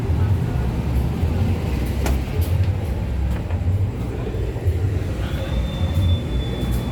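A passenger train rumbles heavily nearby with rattling wheels, then a thin, high metallic wheel squeal rises as it slows to stop at a station.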